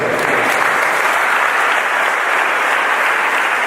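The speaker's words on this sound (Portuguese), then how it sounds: "Aplauda o Senhor nesta noite." A church congregation applauds loudly and continuously, dense clapping filling the whole moment with no pauses.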